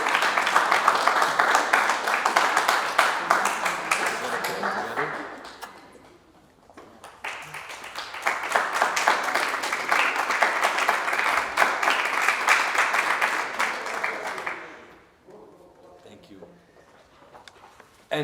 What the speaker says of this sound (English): A big round of applause for Tzipi.